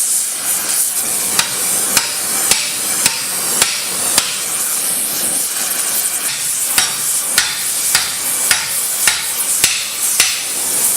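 A hammer strikes repeatedly at a steady, near-regular rhythm while forging a ridge into a steel war scythe blade, each ringing blow loud and close over a background hiss.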